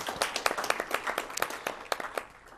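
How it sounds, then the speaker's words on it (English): Audience at a youth forum on teen dating violence giving a round of applause, moderately loud and steady clapping from many hands, with sharp individual claps standing out. "If we can give them a round of applause as well."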